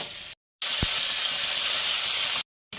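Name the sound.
maya fish frying in oil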